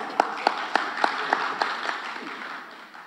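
Applause from an audience at a PDIP-PAN party meeting, with a few sharp claps standing out at a steady rhythm over a dense, moderately loud wash of clapping that slowly fades.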